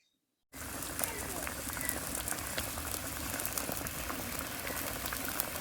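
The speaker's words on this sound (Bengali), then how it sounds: "ও ফুটে গেছে, এবার বড়া গোনা দিয়ে দিলাম।" Fish curry bubbling in a pan over the flame, a steady, dense boil with constant popping and hissing that starts abruptly and carries on evenly, close and moderately loud.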